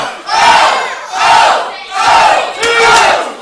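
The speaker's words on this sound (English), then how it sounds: "This crowd is insane." A wrestling crowd roaring and shouting in four loud, swelling waves about a second apart, with no commentary over them.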